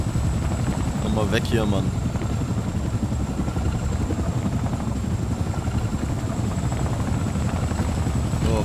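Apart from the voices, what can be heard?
helicopter in the video game Wolfenstein II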